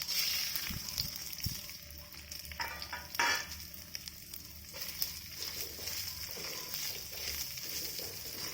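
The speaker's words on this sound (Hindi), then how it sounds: "अब मैं इसको ये घी में फ्राई करूँगी।" Soaked basmati rice frying in ghee in a pan, a quiet steady sizzle with occasional scrapes and clinks of stirring, faint and close.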